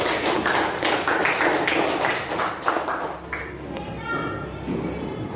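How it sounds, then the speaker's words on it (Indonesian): Classroom children clap together for a classmate in a brief burst of many hands that tapers off, mixed with children's chatter and a teacher speaking. "Tepuk tangan untuk Ines"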